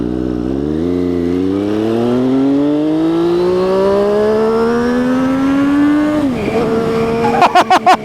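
An MV Agusta Brutale 675 three-cylinder naked motorcycle revs loudly and close, its engine note climbing steadily for several seconds before dropping back, then a few sharp blips of the throttle at the end.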